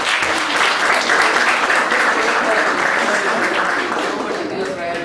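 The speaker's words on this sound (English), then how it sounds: "A big round of applause for Siddesh sir." An audience at a moot court event gives a loud, dense round of applause that holds steady for the whole stretch, with many hands clapping at once.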